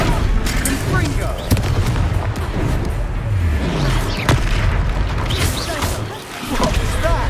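Confringo fire spell blasts from Hogwarts Legacy, booming game explosions with dense battle noise and crackling impacts, layered under a busy combat mix with voices nearby.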